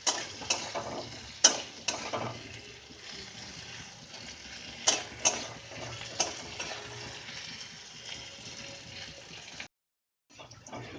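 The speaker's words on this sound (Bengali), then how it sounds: "এইভাবে আলুর টুকরোগুলোকে আপনারা ভেজে নেবেন আর ফ্লেমটা মিডিয়াম ফ্লেমে রাখবেন।" Potato pieces fry in a pan over a medium flame, giving a soft, steady sizzle with scattered light clicks and taps from stirring before it cuts out near the end.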